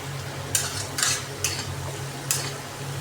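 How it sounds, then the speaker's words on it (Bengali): Vegetables and spices for a Bengali ilish fish curry being stirred and fried in oil, with about four sharp spatula scrapes at uneven intervals over a steady low sizzle and hum, close and moderately loud, no talking. "ভেজে রাখা আনাজ দিয়ে আর মশলা দিয়ে আমি এটা কষতে লাগবো যতক্ষণ না কাঁচা গন্ধটা চলে যাচ্ছে।"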